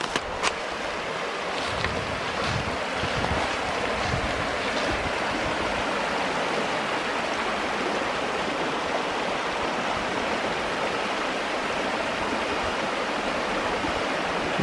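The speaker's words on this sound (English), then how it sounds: "It's a cascade in the middle of this Stinkhorn Creek." A cascade on Stinkhorn Creek in Bankhead National Forest, Alabama, rushing in a steady, broad wash of water noise, close and continuous with no voices.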